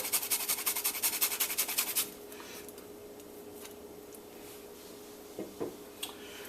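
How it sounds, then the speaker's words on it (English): Fresh ginger scraped over a grater in a home kitchen: a quick run of rhythmic rasping strokes for about two seconds, then quiet with a few small taps. "And I love going in with some freshly grated ginger."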